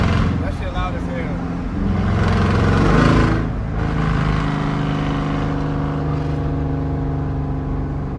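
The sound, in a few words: SRT Jeep with catless mid pipes, loud exhaust while driving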